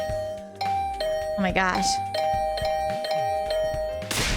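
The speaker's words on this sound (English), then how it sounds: "Getting the hint that this assault on my doorbell would continue until I answered" Doorbell in the video game The Hundred Line: Last Defense Academy, chiming over and over in quick repeated ding-dong tones, loud and close, with an exasperated voice speaking over it.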